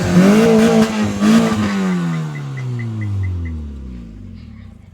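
A car engine fitted with an extra silencer exhaust revs hard, then the pitch falls away smoothly as the revs wind down over several seconds. The sound is loud and close.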